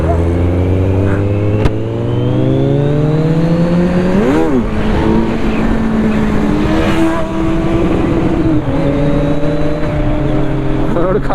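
Kawasaki Z900 superbike engine revving and accelerating on a road ride, rising and falling engine pitch sweeping up through gears, loud and close, with voices talking over it.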